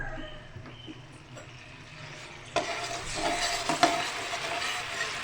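Garlic and ginger frying in oil for a chicken karahi, a steady soft sizzle that jumps louder midway and keeps crackling with occasional stirring clatter.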